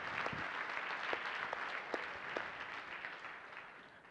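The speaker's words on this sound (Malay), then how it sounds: "Tepuk tangan." Audience applause at a live trading seminar, a soft, somewhat distant burst of clapping that fades over four seconds with scattered sharper claps.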